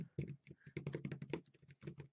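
Fast, close typing on a computer keyboard, a dense run of crisp individual key taps in uneven rhythm, alone and fairly quiet.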